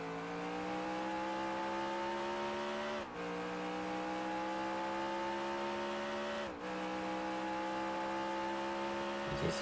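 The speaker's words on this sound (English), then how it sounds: "You just hear the engine at work down Central Avenue." The number 27 race car's engine howls steadily in the NR2003 racing game at Detroit's Belle Isle street circuit, a loud sustained whine with two brief dips as the driver lifts and shifts, no voices.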